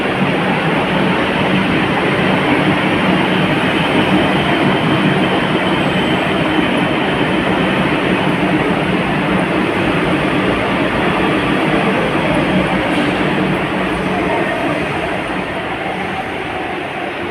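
A Kolkata metro train rumbles steadily and loudly close by as it departs a station, a continuous roar of wheels on rails with no voices.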